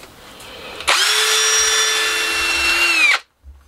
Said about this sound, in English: we'll start off with the drill with the wire wheel in and see what we get with that